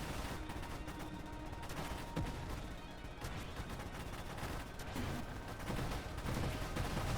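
Dense video-game barrage fire rattles continuously against enemy waves, a steady wash of overlapping shots and blasts that stays loud throughout with slight surges, no voices.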